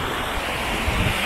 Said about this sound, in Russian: А вот это все открытое море.